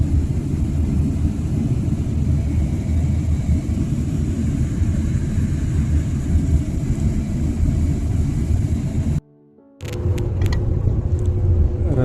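A car on the road, a steady low engine and road rumble heard from inside, briefly dropping out before continuing.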